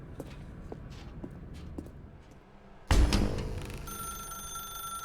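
A telephone rings in the video game The Stanley Parable Ultra Deluxe: soft tapping footsteps give way to a sudden loud burst, then a steady, bright electronic ringing tone that holds to the end.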